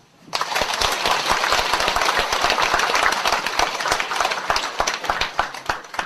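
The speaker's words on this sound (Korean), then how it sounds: "박수." An audience at a Buddhist Dharma talk bursts into loud, dense applause that starts abruptly and holds steady for several seconds, with many hands clapping close by and no talking.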